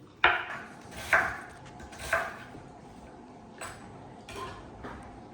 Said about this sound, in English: I'll finish chopping these and the onions